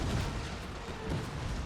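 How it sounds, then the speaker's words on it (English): A heavy, booming explosive shot is fired at a gate in a siege battle, with deep rumbling blasts and continuous battle noise filling the short moment. "Fire explosive shot towards the gate."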